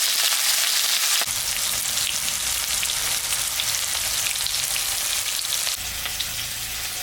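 Ridge gourd, capsicum and other vegetables frying in oil for khichuri, a steady close sizzle with a louder crackle after the vegetables go in, continuing without talk.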